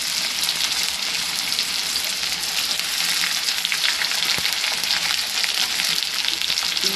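Onion and chili sizzling in hot oil with browned garlic, a steady, loud, even crackle that holds without pause and with no voices over it.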